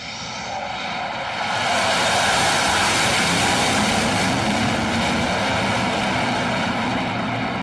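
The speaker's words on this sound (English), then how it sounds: "This Russian Sukhoi fighter jet performs a wild go-around on an aircraft carrier." A Russian Sukhoi fighter jet doing a go-around over an aircraft carrier, a loud, steady jet engine roar that swells after a second and holds strong and close throughout.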